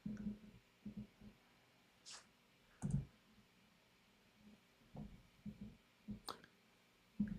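A computer mouse gives several sharp, quiet clicks at irregular intervals, some in quick pairs, close to the microphone in an otherwise silent room.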